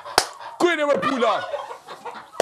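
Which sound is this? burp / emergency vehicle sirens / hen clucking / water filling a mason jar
hen clucking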